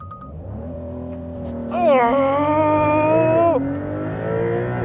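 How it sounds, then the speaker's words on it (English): 2025 Porsche 911 S launching hard on launch control, engine note building then surging loud as revs climb sharply for a couple of seconds before easing off, with a brief excited exclamation early on. "Porsche has hands down the best launch control system on the planet."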